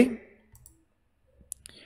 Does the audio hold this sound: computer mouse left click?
yes